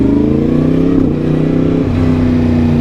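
A Yamaha MT-10 motorcycle engine runs loud and close, its throaty rumble rising and dipping slightly in pitch as it revs.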